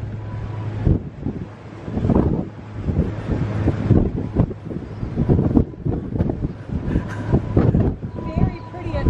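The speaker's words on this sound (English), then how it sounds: "Look at the sign flapping around. That's how windy it is." Strong wind buffets the deck of the Disney Dream cruise ship at night, roaring steadily into the microphone with gusty surges throughout, while people talk over it.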